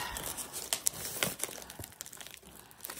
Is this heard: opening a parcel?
yes